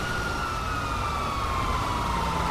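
Police sirens wail continuously in the video game GTA 5. A loud, sustained tone glides slowly downward over steady road and engine rumble, with no talk.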